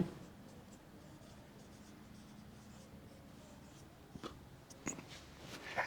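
Chalk or marker scratches across a board during a physics class on dimensions, faint and quiet, with a couple of sharper strokes near the end and no voices.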